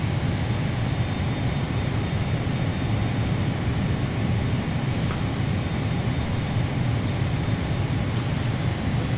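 Steady, loud roar of an RJ 100 airliner's jet engines on approach in Microsoft Flight Simulator X, a constant broadband drone with no speech over it.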